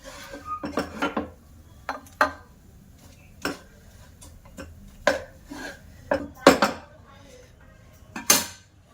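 Egg sondesh being pressed and set into a bowl, with utensils knocking and scraping against the dish in irregular close taps and clinks, several sharp, with a quiet room behind.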